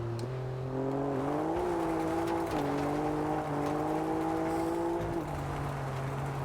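A Ford Raptor in the racing game Test Drive Unlimited Solar Crown drives an off-road dirt track, its engine holding a steady loud drone with pitch rising and dipping through gear changes and throttle shifts, continuous throughout with no talk.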